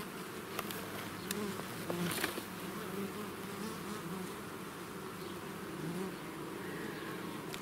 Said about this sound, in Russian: здесь остатки пчел переползают.